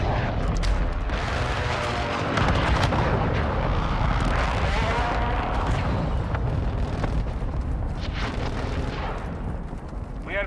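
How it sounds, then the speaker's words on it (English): Mortar strike explosions in Call of Duty: Modern Warfare II multiplayer, a dense continuous barrage of loud booms and rumbling blasts mixed with gunfire, sustained throughout. "Friendly mortar strike inbound."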